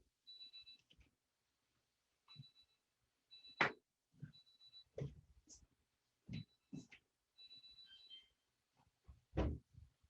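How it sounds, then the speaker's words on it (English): Kitchen timer beeping in the background while a mochi cake bakes, short faint bursts of repeated electronic beeps separated by gaps, with occasional soft clatters and thumps nearby. "So if you can hear that timer in the background, that's our mochi cake."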